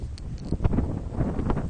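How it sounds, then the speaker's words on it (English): Steady wind roaring and buffeting across an open microphone on a mountain peak, a continuous low rumble with gusty surges and no talking. "It's windy as hell up here."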